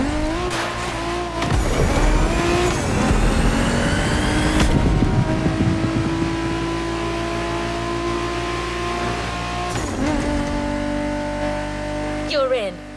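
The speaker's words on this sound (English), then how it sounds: "Good thing you're driving the 1969 Camaro Z28." A 1969 Camaro Z28 racing in The Crew Motorfest, its engine droning loud and steady with rising revs, gear-change dips and bursts of tire squeal, continuous throughout with a voice talking over it.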